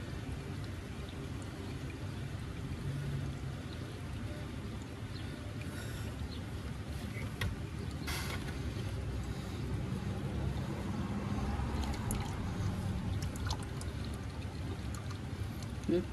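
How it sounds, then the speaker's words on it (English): Motor oil drains from the oil filter of a 2016 Dodge Dart with a 2.0 L engine, a steady low pouring and trickling flow that runs continuously throughout, close and moderately loud. "Yep, coming out the oil filter now."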